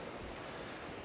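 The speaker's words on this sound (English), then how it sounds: "So it's still windy" Steady wind buffeting on an open beach on the north coast of Lanzarote, a dense continuous roar mixed with surf wash and some microphone rumble, loud and unbroken with no voices.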